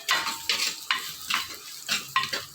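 Okra and onion fry in a pan for vendakkai puli kulambu, with a spoon stirring and scraping in quick, uneven strokes over a steady close sizzle.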